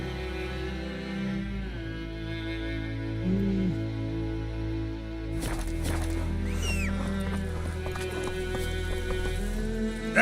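Geralt's horse Roach galloping in The Witcher 3, a loud, rhythmic run of hoofbeats with a neigh partway through, under game music and brief voices.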